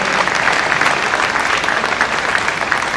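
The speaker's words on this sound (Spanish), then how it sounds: "un fuerte aplauso y bienvenida." A crowd applauding steadily at a graduation ceremony, dense continuous clapping filling the room throughout.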